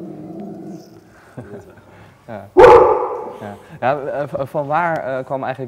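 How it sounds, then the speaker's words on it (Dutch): A single sharp, loud dog bark bursts out in the middle of a relaxed Dutch-language interview, with people talking before and after it. "Dat is een hond."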